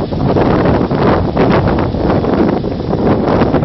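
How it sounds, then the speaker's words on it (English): Strong wind buffets the microphone at Brayford Wharf East level crossing, a steady roaring rush with gusty surges throughout, loud and unbroken, with no voices. "It's a pain in the fucking ass wind though."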